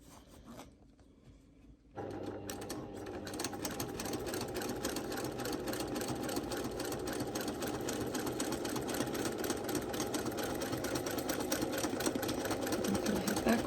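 A domestic sewing machine free-motion quilting feather flowers and crosshatching switches on after a brief quiet start, then runs in a fast steady mechanical chatter, close and continuous.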